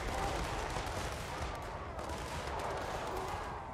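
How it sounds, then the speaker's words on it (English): Dreadquake Mortar bombardment in Total War Warhammer 3, a continuous dense rumble of heavy artillery fire and explosions with crackling debris, loud and steady throughout with no clear pauses. "Oh man, I love the Dreadquake Mortar."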